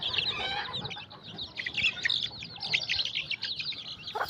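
Chickens and young chicks cluck and peep continuously while eating feed in a small enclosure, a busy near chorus of chirps with scattered louder calls.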